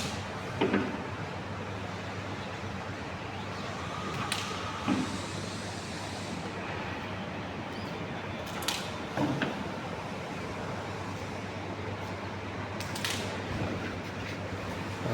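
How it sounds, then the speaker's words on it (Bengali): A T-shirt printing machine runs over a constant low hum, with repeated mechanical clunks, creaks and sliding sounds every few seconds. "মেশিন দ্বারা প্রিন্টিং করছে, কত সুন্দরভাবে দেখাচ্ছে"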